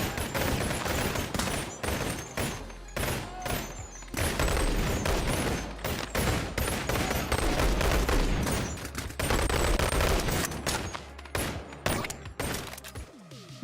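Rapid pistol fire from the Ford character in the Boneworks Gun Ford mod, a VR video game: dense volleys of sharp shots crackle almost continuously and loudly, with brief gaps, with no talking.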